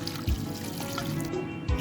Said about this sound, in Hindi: अब इसमें मैं पानी शामिल कर रही हूँ।